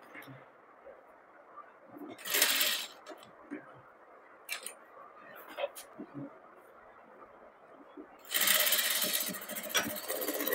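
A sewing machine joining the shoulder seam of a padded blouse runs in two short bursts of rapid stitching, close and fairly loud, with quieter handling clicks and fabric sounds in between.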